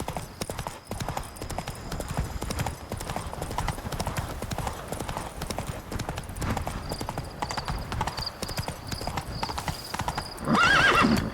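Roach the horse gallops in The Witcher 3 video game, a long run of fast, even hoofbeats close up, ending with a snorting whinny and a brief louder burst.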